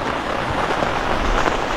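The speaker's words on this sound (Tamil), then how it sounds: "நல்ல மழை பெஞ்சிக்கிட்டு இருக்கு மக்களே" Heavy rain pours down in a deep forest, a steady, dense hiss that holds unbroken and loud throughout, with no voices.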